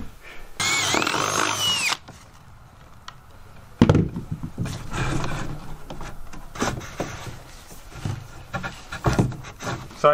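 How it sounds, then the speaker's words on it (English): A power drill revs in a short burst drilling a hole during a home renovation, then stops; scattered knocks and rustles follow at moderate volume. "I gotta drill a hole down here."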